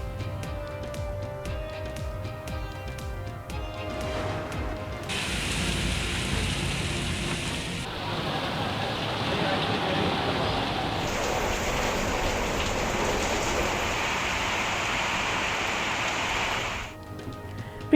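Heavy rain pours steadily in a news report of downpours in Punjab, a dense continuous wash that swells and eases over background music, with no voices.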